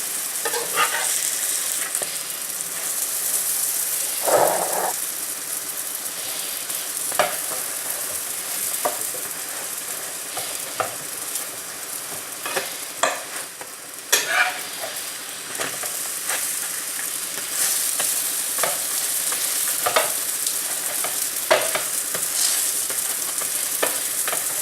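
A whole-wheat paratha frying in oil on a pan, a steady loud sizzle and hiss throughout, close up, broken by occasional scrapes and taps as it is turned by hand, with no talking.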